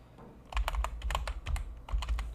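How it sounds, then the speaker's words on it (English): Keys clack in quick bursts on a computer keyboard during a Windows setup, crisp and close with short pauses between clusters of strokes and no voices. "I'll just type, right?"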